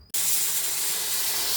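Grated coconut being dry-roasted in a hot pan for sambar bursts into a loud, continuous hiss right after a brief quiet start, a steady sizzling wash that holds evenly with no talking.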